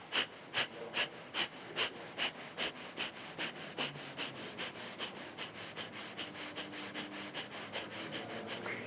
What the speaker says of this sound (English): You can do breath of fire,